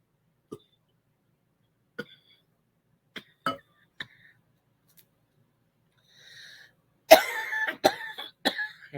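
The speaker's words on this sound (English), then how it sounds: "And this nagging cough keeps hanging on." A lingering cough left over from a cold: a series of short, sharp coughs spaced a second or so apart, then a louder cluster of harsher coughs and throat-clearing near the end, close by with no talking.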